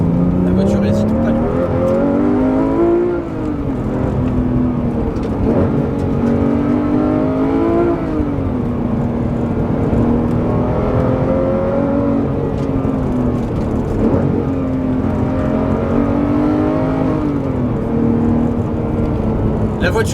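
A Porsche 911 R engine revs hard and loud, its pitch climbing and dropping through repeated accelerations and gear changes, with a voice talking over it.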